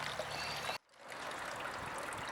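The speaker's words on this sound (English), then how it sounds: "So, it's trickling, but it's not trickling that well." Water trickles from a blocked home-made pond filter as a steady, close, hissing flow. It cuts out for a moment, then resumes at the same level.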